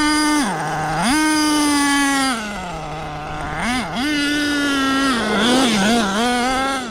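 HPI Savage nitro RC truck with an optional 3-speed transmission stuck in one gear, screaming at full throttle with a high, steady whine that dips briefly and climbs back without any shift, loud and close.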